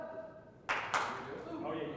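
Two quick hand claps sound close together in a group clapping game at an event, faint against a quiet room with a voice talking faintly before them.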